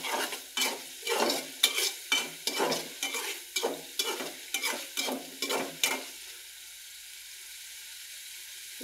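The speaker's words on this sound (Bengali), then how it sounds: "মশলাগুলো কষানো হয়ে গেছে, তেল ছেড়ে দিচ্ছে মশলাগুলো থেকে" Spices for a fish curry are stirred and fried in oil in a pan, each scrape of the spoon bringing a sizzling burst in a steady repeating rhythm that stops partway, leaving a quiet background hiss.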